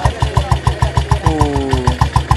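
An original British-made motorcycle engine runs at a motorcycle event in Batu Pahat, with a loud, steady, rhythmic thumping of evenly spaced pulses and no voices over it.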